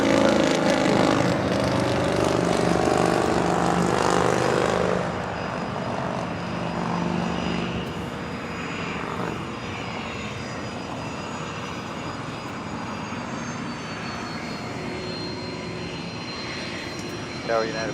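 An airliner at Los Angeles International Airport roars loudly on takeoff, then fades to a steady distant engine drone, with tower radio chatter over the sound.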